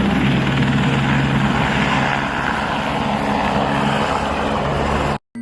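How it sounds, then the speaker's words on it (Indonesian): A toy helicopter gives off a steady, loud whirring drone with a constant pitch that runs without a break and then cuts off abruptly at the end. "Wow, ini helikopter ya teman-teman."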